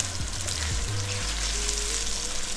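Butter melting beside beef for tantuni in a pan on very low heat makes a continuous sizzle and soft crackle, close and steady, while a low hum runs underneath.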